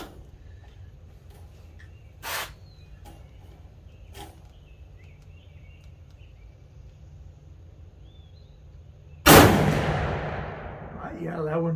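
A single loud, close 7mm-08 Savage Axis rifle shot cracks out after a quiet outdoor stretch and rings away in a fading echo; a couple of faint knocks come before it.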